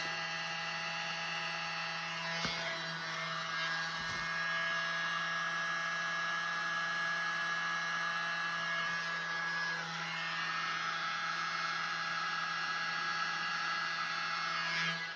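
A blower pushes out an acrylic paint pour to form a bloom: a steady, whining motor and rush of air that runs unbroken for about fifteen seconds at a fairly even level.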